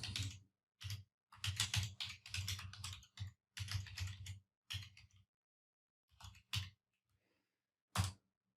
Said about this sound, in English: See if I can type this right the first time.